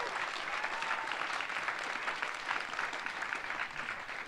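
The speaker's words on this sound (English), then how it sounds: "I want everyone to give a round of applause to Cartland right here." A room full of people applauds the building manager, steady continuous clapping at moderate distance, even and unbroken for several seconds.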